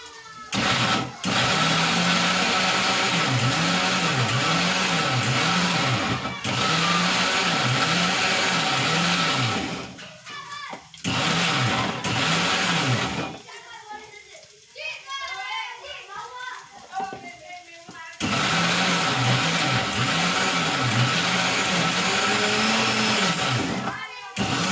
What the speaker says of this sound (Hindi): ये हम पीस रहे अदरक लहसुन की तैयारी